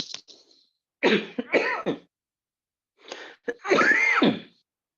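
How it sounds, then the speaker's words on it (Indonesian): A man coughs several times in short, harsh bursts, two clusters separated by silence, close and fairly loud, during a lecture. "Maaf, saya agak batuk-batuk ini"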